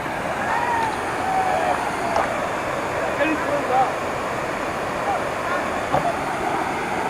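Kuntala waterfall roars as a steady broadband rush of falling water, loud and continuous outdoors, with faint voices and a few thin tones rising briefly above the wash.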